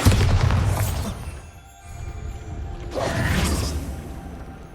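The Bombarda spell in Hogwarts Legacy sets off two booming blasts with crumbling debris, one at the start and another a few seconds later, each loud and close.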